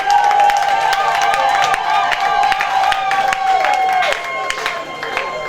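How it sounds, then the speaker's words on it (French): A crowd at a party applauds loudly, with many hand claps blending into a dense, continuous wash. Cheering and voices sound over it, and a sustained tone runs underneath until the applause eases slightly near the end. "Est-ce qu'on peut applaudir très fort?"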